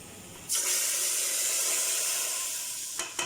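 Hot garlic tadka hits a pot of masoor dal with a sudden loud hiss and sizzle that holds strongly for about two and a half seconds before fading, with a couple of brief clatters at the end.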